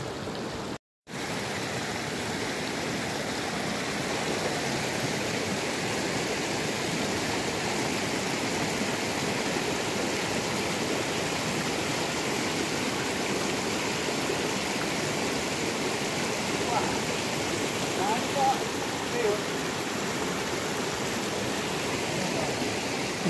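A mountain stream on a Dolpa trekking trail in Nepal rushes and burbles continuously, a steady full stream flowing close by with no voices.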